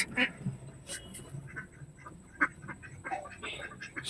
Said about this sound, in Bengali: হাঁসও পোষে, দেখো কত হাঁস।